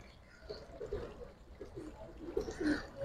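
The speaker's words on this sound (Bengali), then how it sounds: "এটা মাদি কবুতর ভাই, চড়ুই মাদি, চড়ুই পাঙ্খি কবুতর ভাই" Soft, low cooing from a female pigeon at a bird sale, a few murmuring coos rising and falling under faint background noise, fairly quiet and close.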